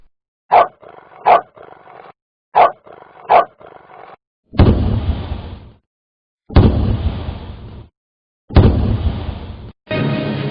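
Dog barks in the setting of a Korean news show, two quick sharp pairs of barks followed by three longer, loud booming bursts, alone with no talking.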